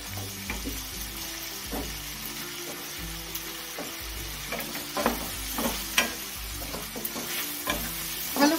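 Turnip curry with turmeric and tomato sautéing in a pan gives a continuous close sizzle, with repeated spatula scrapes and stirring knocks that get louder toward the end. No one speaks.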